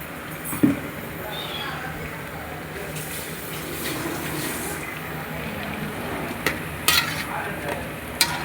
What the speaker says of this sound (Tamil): கிண்டிட்டா சூப்பரான கிரேவி ரெடி.